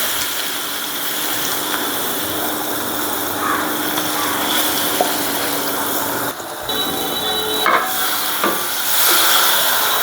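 Prawns sizzle in hot oil in a wok during cooking of a prawn and potato curry, a steady loud hiss and crackle filling the whole stretch, with a few brief clinks of utensils.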